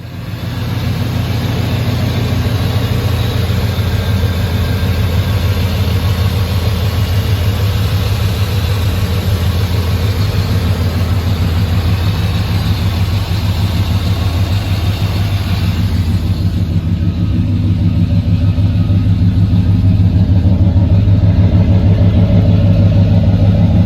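A 1994 Chevrolet Silverado engine runs at a steady, deep idle, loud and close for the whole stretch, with a slight shift in tone partway through and no talking.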